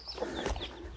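Hens clucking and murmuring in a garden, with soft scattered calls and a few brighter bird notes over low background noise, fairly close.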